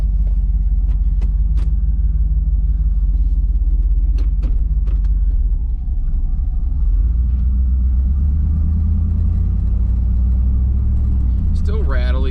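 A 1985 Chevrolet Camaro Z28 rolls along a bumpy street with a steady low engine and road rumble, heard from inside the cabin as the engine shifts in pitch midway.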